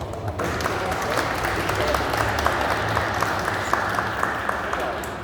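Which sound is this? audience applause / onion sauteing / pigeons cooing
audience applause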